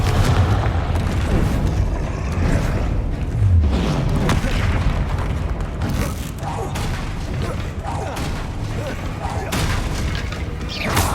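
Blasting curse explosions and spell impacts in the Hogwarts Legacy video game, loud repeated booms and crackling bursts layered with combat noise during a fight, with a voice calling out spells amid the din.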